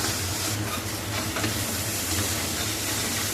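Tomato being stirred and sautéed in a pan for upma, with a steady close sizzle and hiss and soft scraping stirs throughout.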